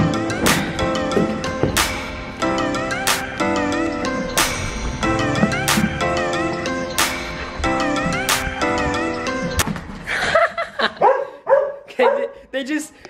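A golden retriever and a husky Pomeranian puppy play together, with repeated sharp barks and yips in a quick, uneven rhythm close by, then softer whimpering yelps toward the end.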